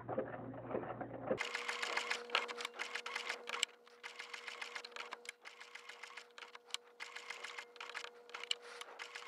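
A sewing machine stitches around the edge of a fabric applique, giving rapid, regular bursts of needle clatter over a faint motor whine, with a brief murmur of voice at the start.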